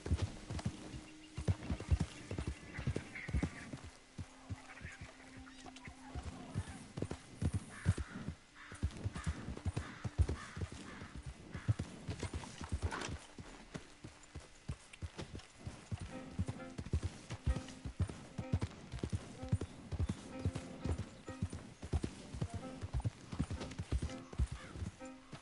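Steady galloping hoofbeats from a horse in Red Dead Redemption 2 drum on continuously and close, with brief talk near the start.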